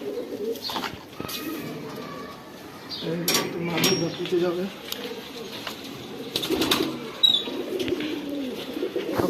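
Sapchila-pattern pigeons kept at home coo in low, rumbling bursts, mixed with faint wing and cage noises, while someone talks over them.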